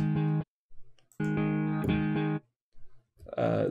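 Processed vocal phrase sample from the Indie Fingers library, an effected variation of a short sung line, with two sustained harmonic sung bursts separated by near silence and a final warbling, modulated fragment.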